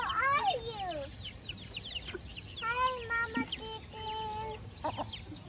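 Chickens clucking outdoors on a nighttime walk, a hen with chicks nearby, a steady run of chirpy clucks and peeps over background noise, close and moderately loud.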